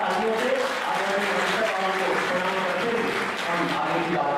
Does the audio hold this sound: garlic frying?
no